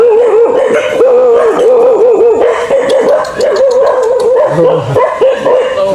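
Several village dogs bark, yip and howl together in a loud, sustained chorus, with warbling howls running throughout and sharper barks layered over them.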